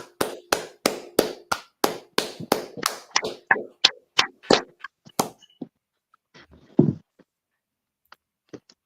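A small group clapping in unison, loud crisp claps in a steady quick rhythm that loosens and thins out after a few seconds, ending in scattered isolated claps and a final lone thump before near silence.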